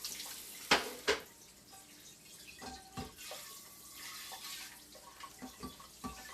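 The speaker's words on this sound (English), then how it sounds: "Then what I like to do is to rinse it out with warm water" Warm water runs from a tap to rinse out a kombucha jar, a steady soft splashing flow with a few louder clinks and splashes near the start and scattered gurgles throughout.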